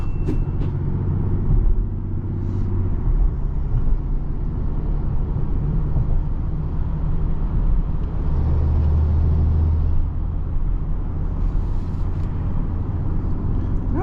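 A 2023 BMW X3 30e plug-in hybrid accelerates on electric power alone, a steady muffled cabin rumble of road and tyre noise with a faint motor hum, no voices over it.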